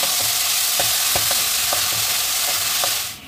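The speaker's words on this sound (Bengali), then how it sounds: "পেঁয়াজটা আমি লাল লাল করে ভেজে নেব প্রথমে।" Chopped onions frying in hot oil in a pan, a loud steady sizzle close up with soft scraping stirs at intervals, fading at the very end.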